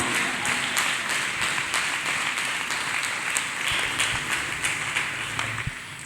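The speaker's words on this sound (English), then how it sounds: "Clap hands for Master Jesus, people of God." A crowd claps steadily and loudly throughout, a dense continuous round of applause.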